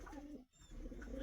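A breeding pigeon coos softly in its loft, a short low rolling call broken by a brief pause, close and alone.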